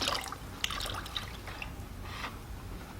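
Liquid poured out during cleanup of a pottery wheel part slid out from under the wheel, with soft trickling and scattered drips over a steady low background hum, fairly quiet and close.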